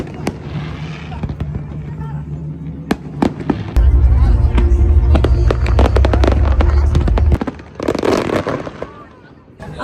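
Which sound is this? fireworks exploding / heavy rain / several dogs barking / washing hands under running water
fireworks exploding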